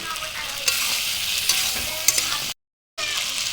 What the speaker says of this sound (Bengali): সব কিছু দেওয়ার পর একটু ভালো করে কষিয়ে নেব।